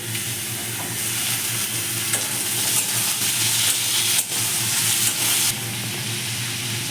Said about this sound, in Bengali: এই আলুগুলো আমি এবার এর মধ্যে দিয়ে ভেজে নেবো